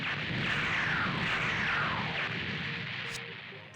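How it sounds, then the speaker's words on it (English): Warship cannon fire in SD Gundam G Generation Genesis rolls out as a broad, loud blast with a sweeping, whooshing roar that slowly fades over a few seconds, followed by a short bright ping, with no talk over it. "It's like they've got warship cannons."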